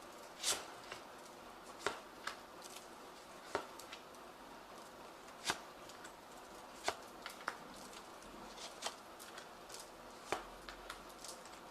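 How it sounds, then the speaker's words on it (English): Quiet papery flicks and soft taps of a Zombie Tarot deck being shuffled, irregular bursts spread throughout, close and faint. "I have shuffled this deck."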